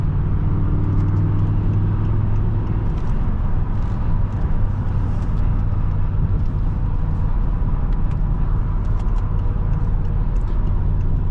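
A 2007 BMW M6 with a V10 engine driving on the road, a steady low engine drone and rumble heard from inside the cabin, continuous and fairly loud throughout with no talking.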